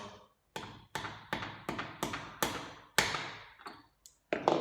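Hammer strikes driving a nail into a wooden sliding-lid box, the nail held steady in needle-nose pliers; about nine sharp, close taps in a steady rhythm, each ringing briefly.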